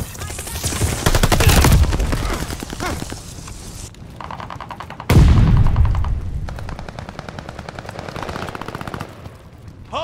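Rapid automatic gunfire around a hardpoint in Call of Duty: Vanguard, loud bursts of shots in two heavy volleys separated by a brief lull, with scattered shots trailing off.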